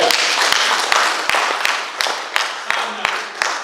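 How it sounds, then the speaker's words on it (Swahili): A congregation at a Kikuyu Sunday church service applauds the choir, a dense wash of clapping with a steady rhythmic beat running through it, loud and close. "Hebu tuwapigie makofi wanakwaya."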